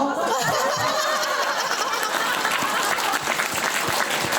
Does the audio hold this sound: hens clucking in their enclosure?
no